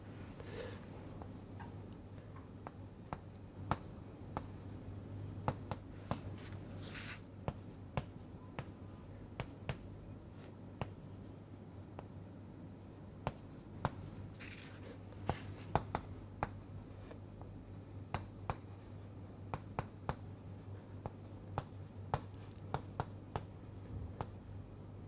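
Chalk or pen scratches out maths notation on a board or paper during an indices lesson, a quiet run of irregular taps and short strokes over a low steady hum, continuing for the whole stretch.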